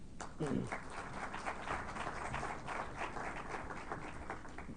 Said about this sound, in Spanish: Recibámoslo con un fuerte aplauso.